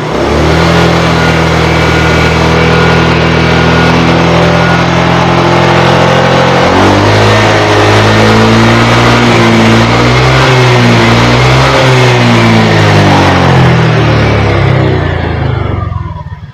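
Honda Vario 125 scooter engine idling steadily, then revving up with rising and falling pitch before settling back; loud and close, with no talk.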